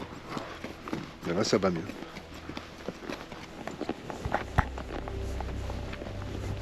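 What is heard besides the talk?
horse walking in desert valley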